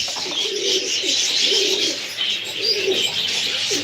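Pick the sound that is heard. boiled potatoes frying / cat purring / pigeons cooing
pigeons cooing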